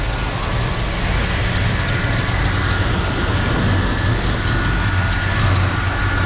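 A 1956 Chevrolet Bel Air V8 idles roughly after its ignition timing is set, with the vacuum advance disconnected, producing a loud, steady, low rumble close by throughout.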